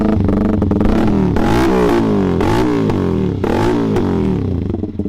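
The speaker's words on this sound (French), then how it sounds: "Les gars là on va démarrer la moto et voir à peu près le son qu'elle fait tout simplement" A Zontes 125 Scrambler motorcycle, de-restricted with a full exhaust, runs loud and close, its engine revving up and down in repeated blips with a rough, throaty tone, no voices.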